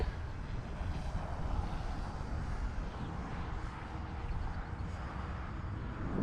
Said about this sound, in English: Still has that airplane sound to it.